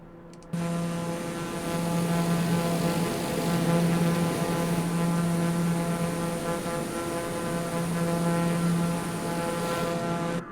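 A Black Square TBM 850 turboprop plane climbing steeply in Microsoft Flight Simulator, its engine and propeller giving a loud, steady droning roar with a low hum that swells slightly at times.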